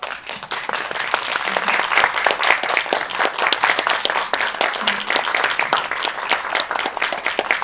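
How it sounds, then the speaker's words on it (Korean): An audience at a Korean film screening event applauds continuously as actors come in, a loud, steady bed of many hands clapping that holds without a break. "들어오시면 큰 박수 부탁드릴게요"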